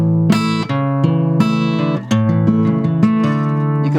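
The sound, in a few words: acoustic guitar strings being plucked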